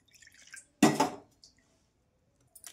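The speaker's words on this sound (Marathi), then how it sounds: "फेटून घेणार आहोत आपण मस्तपैकी।" A whisk stirs a pumpkin batter mixed with curd, water and lemon, giving a short wet, squishy burst of mixing with a few fainter liquid stirs around it, close and quiet.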